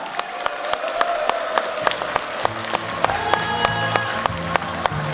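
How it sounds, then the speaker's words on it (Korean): An audience applauds at a book launch event in Korea, a steady patter of many clapping hands with a few louder nearby claps standing out, filling the whole stretch without speech over it. "다시 한번 뜨거운 박수 부탁드립니다"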